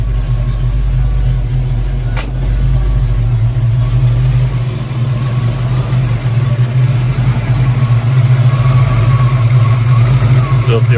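A Ford Foxbody Mustang engine idles steadily with its idle air control valve unplugged, a loud constant low rumble running unchanged throughout, with a brief click early on.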